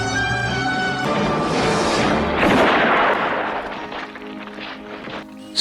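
A gunshot from a Western showdown in The Good, the Bad and the Ugly rings out over the film's music, a loud burst that swells and then fades out.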